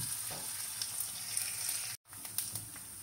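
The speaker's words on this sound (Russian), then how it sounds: "И продолжаем обжаривать лук." Chopped onion fries in a pan, a steady soft sizzle with light crackles and a brief stir, heard alone at low volume with a short dropout near the middle.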